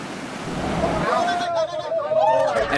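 Raging flood current of the Umatia River rushing past a bridge, a steady roaring wash of water with wind noise, under a voice talking.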